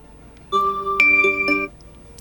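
A short electronic alarm ringtone melody from a POCO F8 Ultra phone plays a few clear, bell-like tones in quick succession, then stops, heard alone in a quiet room.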